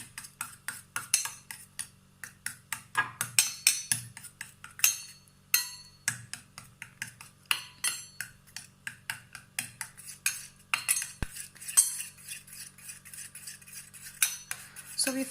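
A spoon mixing a homemade face pack in a bowl, giving rapid close clinks and scraping taps in an uneven rhythm, with quieter gaps and a low hum underneath.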